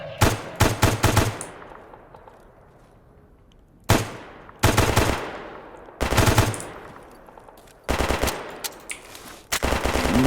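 Loud automatic gunfire in the video game Escape From Pripyat: rapid bursts of machine-gun shots in several volleys separated by short pauses, each burst ringing out with a decaying echo.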